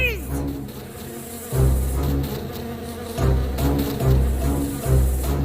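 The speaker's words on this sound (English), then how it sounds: "Dorothy and her friends saw the bees flying towards them" Giant bees swarm in a fairy-tale sound effect, a droning, buzzing hum that swells and fades in repeated waves, fairly close and alone.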